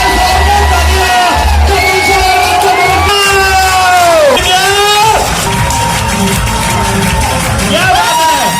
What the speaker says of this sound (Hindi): तो जोरदार तालियां, एक बार खड़े हो गए, एक बार खड़े हो गए, जोरदार तालियां।